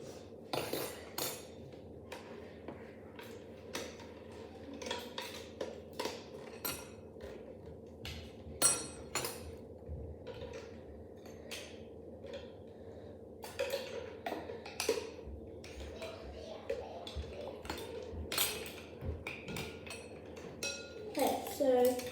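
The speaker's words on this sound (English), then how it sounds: "we're gonna hand whisk this together" Hand whisking chocolate melt-in-the-middle cupcake batter in a bowl until smooth, a steady run of close metallic clinks and scrapes with sharper knocks now and then, with voices talking alongside.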